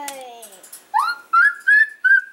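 Clear, close whistles from a noisy pet bird: after a brief harmonic call, four loud, sustained whistle notes follow one another in an even rhythm, each holding a steady pitch before a short pause.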